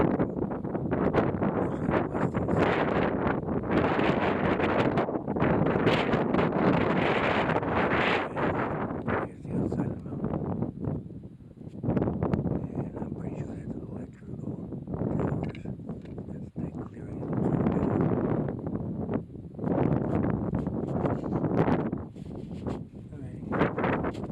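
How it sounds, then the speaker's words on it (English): Outdoor wind buffets the microphone on a long walk, producing loud, rumbling gusts that swell and drop in uneven waves for the whole stretch, with brief quieter lulls between them. "all the wind is probably making all the sound"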